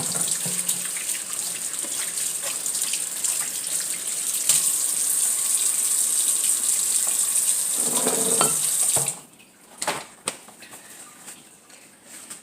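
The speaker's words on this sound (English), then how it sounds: "I'm gonna wash my hands real quick." Tap water running into a kitchen sink while hands are washed, a steady close hiss for about nine seconds, then shut off, leaving a few faint drips and clicks.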